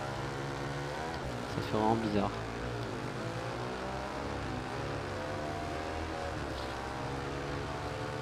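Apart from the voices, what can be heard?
café racer motorcycle engine in video game RIDE 2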